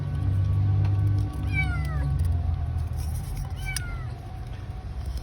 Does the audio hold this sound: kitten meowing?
yes